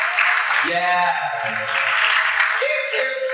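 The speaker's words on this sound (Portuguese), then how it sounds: "Palmas, por favor." Audience applause at a panel debate on trans artists and creative processes, a steady crowd clapping throughout while a voice shouts over it.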